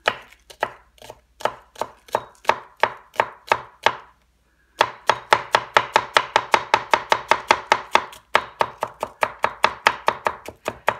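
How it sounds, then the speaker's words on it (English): A knife chops two scallions on a cutting board in quick, even runs of sharp close knocks, pausing once briefly before a faster, denser series of strokes resumes, with no talking. "we're just going to chop up two scallions"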